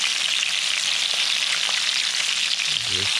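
Rabbit meat fries steadily in a pan over a campfire on a winter day in Ontario, giving a dense, even sizzle that stays close and constant throughout, with a few faint crackles and a low stirring knock near the end.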